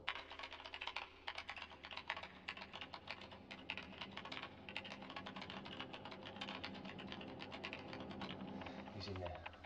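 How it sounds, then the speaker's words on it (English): Rapid typing on a computer keyboard clatters steadily and fairly close inside a room behind a closed door, with a low hum underneath and faint voices at times. "I can hear him at the keyboard."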